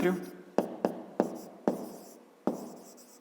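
A pen strikes and scratches on paper in a few short, sharp strokes, each a crisp tap fading quickly, close and clear in a quiet room.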